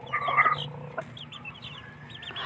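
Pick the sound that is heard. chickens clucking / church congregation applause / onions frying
chickens clucking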